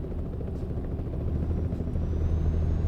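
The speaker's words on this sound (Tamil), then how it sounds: "பாருங்க மேலே நிற்கிது பாருங்க ஹெலிகாப்டர்." A helicopter overhead in Euro Truck Simulator 2 gives a steady low rumbling throb that holds evenly and grows slightly louder, with no speech over it.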